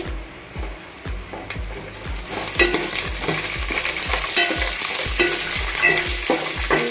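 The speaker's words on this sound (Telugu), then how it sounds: "నెక్స్ట్ పచ్చిమిర్చి వేస్తున్నానండి" Green chillies fry on low heat in a pan for gongura rice, a steady close sizzle punctuated by regular rhythmic knocks of a spoon stirring against the pan.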